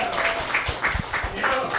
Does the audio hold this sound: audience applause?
yes